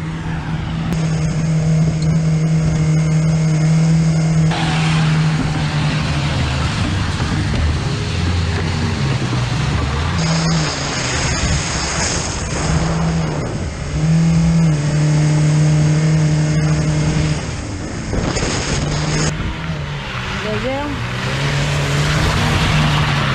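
Car engines revving with a crackling exhaust at an outdoor car event, loud and continuous with rising and falling revs, under scattered voices.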